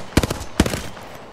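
Gunfire in Apex Legends during a duos match: two sharp bursts of rapid shots, each a quick cluster of three or four cracks, close and loud, with a brief gap between and quieter game ambience after.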